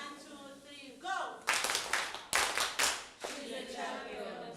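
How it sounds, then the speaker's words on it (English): A class gives a group round of clapping after a count-in, with several strong bursts of hand claps close by. Talking comes before the claps and continues faintly after them. "Can we give a digital clap?"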